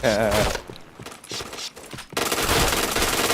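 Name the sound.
gunfire in the video game PointBlank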